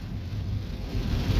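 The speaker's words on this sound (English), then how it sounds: "it's raining loud as fuck. And now it's kind of going down." Heavy rain pours down outdoors in a steady, dense hiss with a low rumble underneath, near and fairly loud and holding steady throughout.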